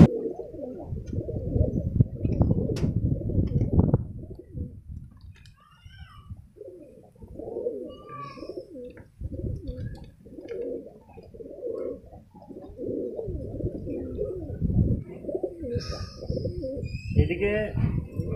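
Pigeons coo in their coop after rain, soft low calls repeating throughout, partly mixed with a person talking nearby.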